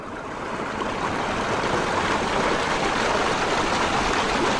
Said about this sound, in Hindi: रोड पे आ रहा पानी।